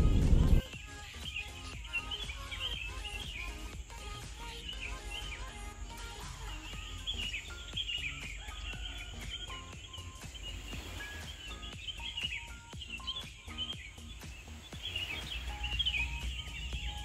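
Many birds chirp and call in overlapping bursts against a steady low outdoor hum, moderately distant, continuing without voices throughout, at sunrise on Kencana Beach, Sumbawa.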